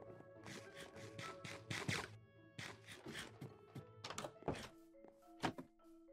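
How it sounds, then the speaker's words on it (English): A Minecraft character eats, giving quick, crunchy munching bursts in a fast repeated run with short pauses. The sound is quiet and comes without speech. "Okay, I can hear you eating."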